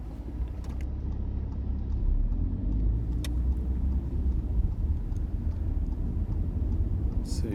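A car drives around a busy traffic-light roundabout off a main parkway, its steady engine and road rumble filling the scene at close range, with a faint tick or two over the top.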